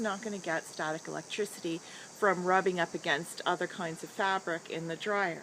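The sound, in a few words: cicadas buzzing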